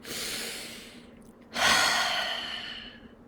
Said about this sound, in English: So let me take a breath.